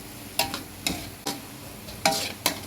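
Minced pork stir-fried with dark soy sauce for Thai basil pork, a spatula scraping and tossing in a hot pan about six times in short bursts, close, over a faint sizzle, with no talking.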